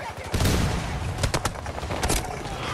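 Dense Battlefield 2042 gunfire rattles in close, overlapping bursts and rapid cracks throughout, loud and chaotic, with a voice briefly audible in the mix.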